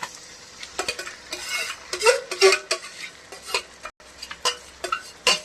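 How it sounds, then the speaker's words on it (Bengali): Marinated mutton tipped into a hot kadai crackles and sizzles, broken by bursts of metal clatter and scraping as it is stirred, close and uneven; no speech. "এবার মাংসটা কড়ার মধ্যে ছেড়ে দিচ্ছি।"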